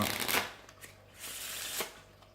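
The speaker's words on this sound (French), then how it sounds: "On peut venir mélanger le jeu de plusieurs manières, à la française, mélange américain." A deck of playing cards being shuffled by hand during a magic trick, with quick riffling bursts and softer sliding flutters, close and fairly quiet.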